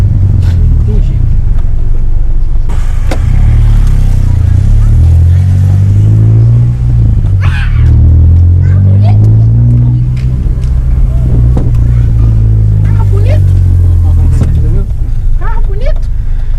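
A Honda Civic Si with a stage 4 engine idles with a heavy low rumble and revs repeatedly, loud and close, while people talk over it.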